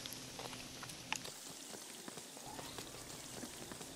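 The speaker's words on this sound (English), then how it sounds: "Now I'm at an area where there's a little waterfall" A small waterfall on a forest trail gives a faint, steady splashing wash with scattered drips and trickles, heard from a short distance.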